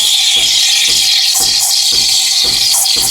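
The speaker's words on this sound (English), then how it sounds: "We want that nice paper tearing sound that you can hear there." An espresso steam wand hisses into milk with a rhythmic, papery tearing texture, pulsing roughly every half second, loud and close.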